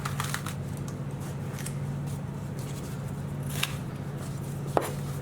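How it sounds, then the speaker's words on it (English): A kitchen knife slices through a red capsicum on a cutting board, with a few soft crisp cuts and taps over a constant low hum. "Next we'll bring across one red capsicum. Want to slice through the middle,"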